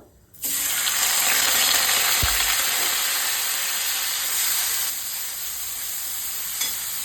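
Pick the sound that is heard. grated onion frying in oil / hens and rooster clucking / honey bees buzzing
grated onion frying in oil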